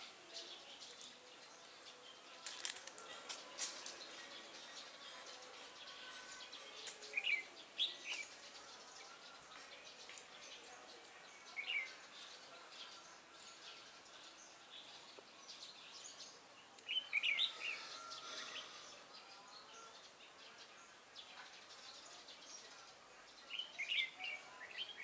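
A red-whiskered bulbul at a trapping spot gives short, bright chirping phrases every few seconds. The calls are fairly faint, set against a steady hiss and insect-like buzzing outdoors.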